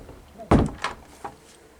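A bedroom door strung with Christmas lights swinging open, giving a sharp close thunk followed by a couple of softer knocks and rattles, brief and fairly loud.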